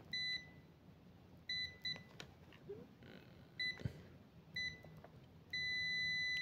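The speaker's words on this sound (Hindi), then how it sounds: "ये कनेक्टिविटी यानी बीप की आवाज़ आपको दिखा देते हैं।" A digital clamp meter beeps on continuity test, sounding a series of short, sharp electronic beeps in quick bursts before ending in one long sustained tone, close and clear over quiet room noise.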